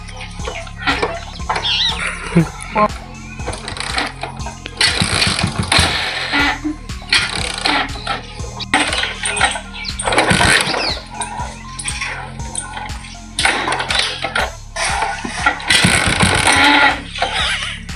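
A motorcycle is started again and again but fails to catch. Repeated mechanical cranking bursts and rattles, close by and fairly loud, come over about eighteen seconds with little or no speech.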